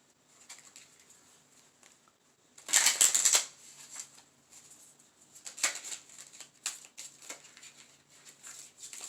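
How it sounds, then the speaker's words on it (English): A deck of tarot cards is cut and shuffled up close, with one loud burst of riffling followed by softer, irregular patters and flicks of cards. "let's cut the deck and shuffle them"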